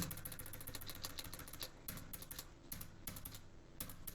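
Computer keyboard typing in quick bursts of close, crisp key clicks with short pauses, including keyboard shortcut presses during data entry, heard alone at low volume.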